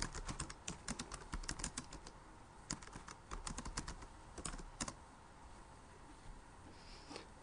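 Computer keyboard typing while chatting in Urdu, a rapid, uneven run of close, crisp key taps with short pauses and a few isolated clicks near the end, and no voices.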